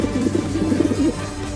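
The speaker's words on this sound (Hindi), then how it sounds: "चिंटू के घर में से कबूतर की आवाज आ रही है।" Cartoon pigeon cooing in a Hindi animated comedy, a steady run of soft, warbling coos lasting under two seconds, close and fairly loud with no talk over it.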